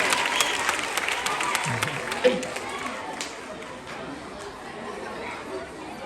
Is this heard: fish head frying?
no